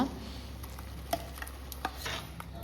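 Coconut paste being stirred into pumpkin erissery in a pan, soft scraping and a few light spoon taps over a low steady background hiss.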